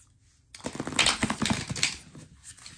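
Oracle cards riffle and shuffle close by in a quiet room, a dense run of crisp papery flicks and taps that builds, then thins out to a soft rustle.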